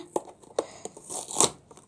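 A few brief crinkles and tearing snips of packaging close up, scattered irregularly over a couple of seconds, fairly quiet.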